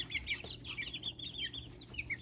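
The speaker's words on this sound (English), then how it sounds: "This is what you're hearing, chirp, chirp, chirping." Indoor brood of young chicks chirping continuously, a busy chorus of high, rapid peeps close by with soft clucking mixed in.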